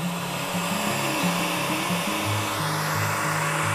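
A hot-air blower runs continuously with a steady roar at close range, used to shrink the seal on a bottle of homemade strawberry wine, its pitch wavering slightly, with no talking.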